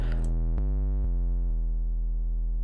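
A sustained low Serum synth sub bass tone with a gritty, buzzing diode distortion edge, retriggered a few times at an even pace, playing alone.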